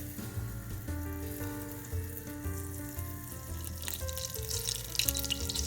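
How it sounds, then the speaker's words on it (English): Butter melting in a pan to start a béchamel roux gives a steady, soft sizzle with a faint watery crackle, running continuously at a moderate level with no talk over it. "we're going to melt some butter."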